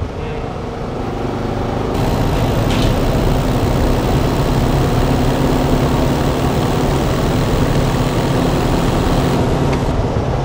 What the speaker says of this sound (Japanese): 骨太に感じるのはマフラーのエキゾーストサウンドだと思う